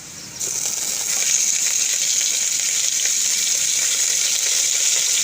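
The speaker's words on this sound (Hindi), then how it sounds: "अब मैं इसमें चिकन डाल रही हूँ।" Chicken pieces hit hot oil with light golden brown onions in a pan, setting off a loud, steady, close-up sizzle of frying that holds unbroken from start to finish.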